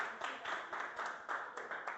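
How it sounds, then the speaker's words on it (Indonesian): Students in an Indonesian classroom clap together after finishing a lesson level, a steady burst of hand claps in a small room with a few louder sharp claps standing out. "boleh tepuk tangan dulu"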